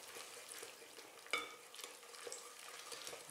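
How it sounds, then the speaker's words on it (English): A spoon stirs flour into hamburger bun dough in a bowl, making soft, faint scraping and swishing strokes with one small knock, quiet and close, with no talking. "you want to stir in just one direction"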